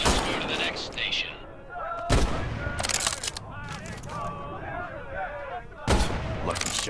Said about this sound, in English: you reload by pulling and pushing the bolt after each shot